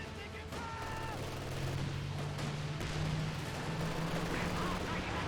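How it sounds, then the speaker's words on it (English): Land Mattress rocket barrage in Company of Heroes 2: a rumbling stretch of rapid rocket launches and explosions, with a sustained roar under the game's battle noise. "Land Mattress Barrage back here, getting some decent hits there"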